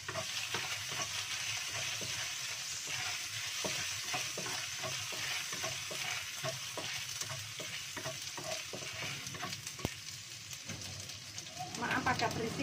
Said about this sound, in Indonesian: Goreng dulu ikan asinnya ya, karena ikan asinnya mentah ya.